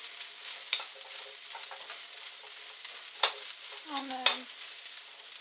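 Chicken and broccoli sizzle in an overheated wok for a takeout-style stir-fry, a steady hissing crackle with a few sharp spatters and utensil knocks, while a voice briefly speaks.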